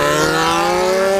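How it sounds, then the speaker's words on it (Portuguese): Two Yamaha XJ6 motorcycles with loud open exhausts, a dense, close, sustained engine roar with a slowly rising pitch as they accelerate together. "chega a arrepiar o barulho das duas XJ junto"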